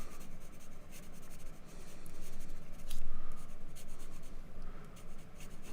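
A B pencil shading misty trees on paper, giving a steady close scratching and rubbing that swells and eases with the strokes, with no talking.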